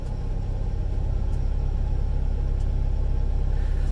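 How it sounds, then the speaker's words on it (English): A Pantera sprayer's product pump runs loud and steady, a dense continuous drone with heavy low rumble and no pauses or talk over it. "this is your pump. Hear it? It's the loudest thing on this sprayer is that pump."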